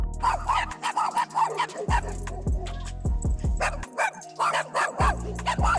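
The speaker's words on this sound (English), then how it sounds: "Maestro, play the damn chihuahua." Played chihuahua sound effect of repeated sharp, yappy barks in uneven bursts, loud and close, with people talking over and between the barks.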